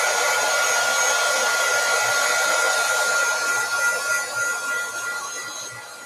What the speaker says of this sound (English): I'm going to get my heat tool out and dry this off a little bit